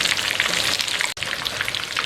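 Chicken sizzles in hot oil in a pan for Lahori chargha, a steady dense crackle and hiss throughout, interrupted by one brief silent gap midway before the frying resumes.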